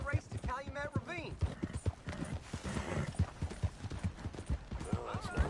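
Horse hooves clip-clop in a steady rhythm in the Red Dead Redemption 2 video game, moderately close and running under ongoing character dialogue, with a brief whinny-like sound.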